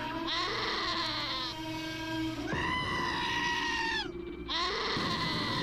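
Several drawn-out, wavering goat bleats from the video game Wasteland 2 ring out in quick succession, loud and close, with a short gap before the last cry.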